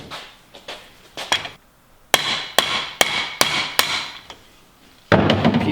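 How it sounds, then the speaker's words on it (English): Hammer striking the clutch pin during a Ski-Doo Gen 5 turbo clutch kit install, sharp metallic blows in uneven bursts, the later ones loud and close, ending with a clattering rustle. "so you don't bend this when you're hammering"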